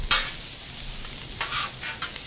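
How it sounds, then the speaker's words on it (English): Egg chow mein noodles with cabbage sizzle and crackle loudly in a hot pan while being stir-fried, with bursts of stirring and tossing rising over a steady frying hiss. "I want you guys to hear this sizzle."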